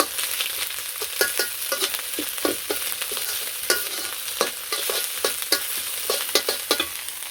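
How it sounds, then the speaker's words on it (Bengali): Fish eggs frying in a pan, with a constant bright sizzle and frequent sharp scraping and stirring clicks scattered throughout, close up and without any speech. "ডিমগুলো ভাজা হয়ে গেছে"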